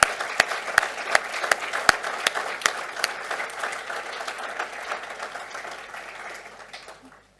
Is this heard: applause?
yes